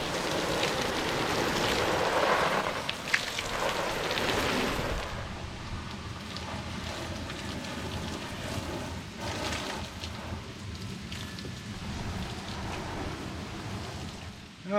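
Heavy water spray drums steadily on a waterproof-coated boat cover during a water test, a dense hissing, rain-like wash that stays loud and close throughout with no talking.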